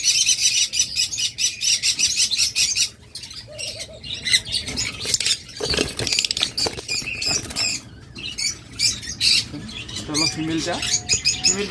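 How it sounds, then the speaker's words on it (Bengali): Caged pet birds at a bird sale, including cockatiels, budgerigars and doves, chirping and squawking in a dense, busy chorus with fluttering, close to the microphone, and someone talking intermittently. "একদম কোল্ড রিংয়ের পাখি"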